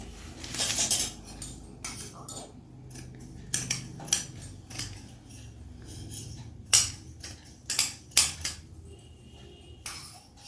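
Scissors snipping through satin fabric for a designer long frock, a series of separate crisp cuts and clicks at uneven intervals, close and fairly quiet with no talking.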